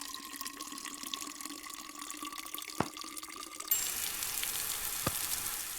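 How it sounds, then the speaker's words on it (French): Water runs from a faucet into a container in Plant Nursery Simulator, a steady hiss that turns louder and brighter partway through as the fill continues, with a couple of faint clicks and no talk. "Alors, on vise le robinet. Et on remplit."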